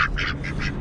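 Ducks quack in a quick burst of three or four nasal calls, close and clear over a low background hum.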